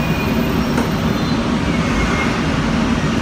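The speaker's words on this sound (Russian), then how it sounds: "находимся в их историческом трамвайчике, который ходит по Новому Орлеану." Inside a historic New Orleans streetcar, a steady low rumble of wheels on rails fills the cabin, continuous and close, with no voices.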